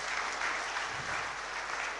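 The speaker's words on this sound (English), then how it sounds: "Let's give a big round of applause to Amaljeet ji again." An audience at a 2015 national convention in Ahmedabad gives a round of applause, a brief, even patter of many hands clapping, soft and steady without any talk over it.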